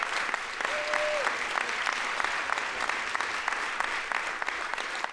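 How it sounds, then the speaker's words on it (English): A banquet audience gives a full round of applause, a dense, even wash of many hands clapping that carries on unbroken for several seconds. "Please give a huge round of applause for Amina and her exceptional literary achievements."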